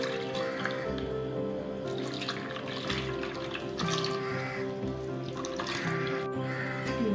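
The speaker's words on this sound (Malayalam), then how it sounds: "നമ്മൾ നേരത്തെ പാനിയാക്കി വെച്ചിരുന്ന ശർക്കര ഒന്ന് അരിച്ചെടുക്കട്ടെ" Jaggery syrup for unniyappam is strained and poured, making a continuous soft trickle of liquid over a faint background hum.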